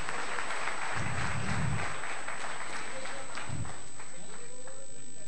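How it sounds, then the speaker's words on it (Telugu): An audience at a Telugu Christian gathering claps together, a dense burst of applause that swells and fades in waves, with voices audible alongside. "ఒకసారి చప్పట్లు కొట్టేవారు అందరినీ"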